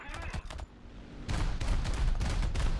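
Gunfire in the War Thunder jet combat game, with a few quick bursts early on, then a louder, sustained rattling fusillade of rapid shots that continues to the end.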